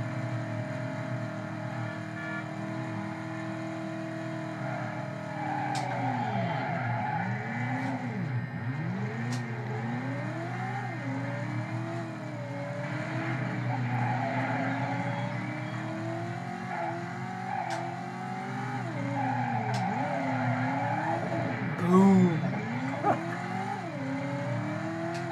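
A car drives and skids through the city in the PS1 game Driver, its engine rising and falling in pitch through sustained revving, with a louder tire-squeal burst late on.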